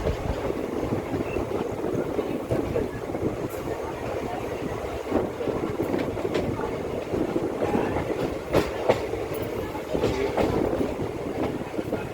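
The Narmada Express, train 18233, rolls along the rails with a steady rumbling roar and repeated clickety-clack wheel beats, heard from inside the moving train with no talk.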